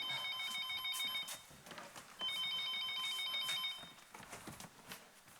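A telephone bell rings in two long bursts of bright, repeating trills, loud and close, with a short pause between them and the second burst trailing off.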